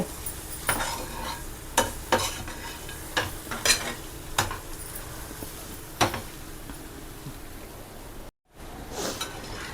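Mutton liver fry cooking with fresh curry leaves, green chilies and coriander, a soft continuous sizzle punctuated by sharp spatula taps and scrapes against the pan, with a momentary dropout near the end.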